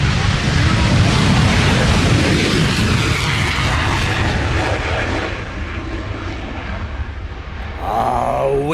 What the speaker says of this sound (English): Here it is in full, the F-22 display.